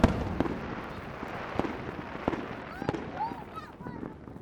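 Fireworks bursting in the night sky, a series of sharp distant pops and booms spaced irregularly over a low outdoor background, with some faint whistling crackle.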